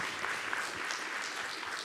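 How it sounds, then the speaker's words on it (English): Audience applause after a research presentation at a conference on forced displacement, a steady wash of clapping from a room of listeners that holds at an even level throughout, fairly quiet and with no other sound on top. "Colleagues, a big round of applause, please, for May."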